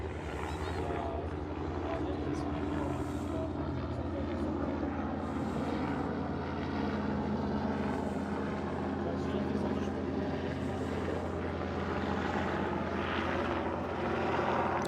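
Manfred von Richthofen's World War I propeller fighter plane flies at the La Ferté-Alais airshow, a continuous rough engine drone holding steady throughout, with a voice talking over it.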